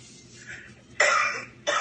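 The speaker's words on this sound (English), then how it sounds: "Look, now she got a coughing spell." A woman coughs in two harsh bursts, a longer fit followed by a short second one, close by over a quiet background.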